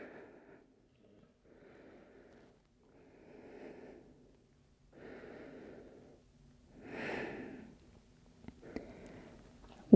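Slow, soft breaths during a yoga pose, a series of quiet inhales and exhales in an even rhythm, close and faint, with one slightly louder sniffing breath near the end.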